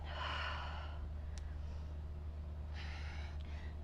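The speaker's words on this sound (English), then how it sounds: "Deep inhale here" Deep breath during a yoga flow, a soft audible inhale at the start, then quiet, and a second breath near the end, close and faint.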